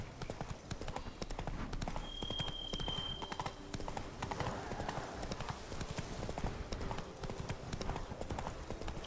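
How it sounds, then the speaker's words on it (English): Horse hooves clip-clopping at a steady gallop in The Witcher 3, a continuous rhythmic thudding that runs throughout, loud and close, with ambient game noise behind it. "Every time I'm proud of Roach for driving herself, she just goes wherever she feels like it."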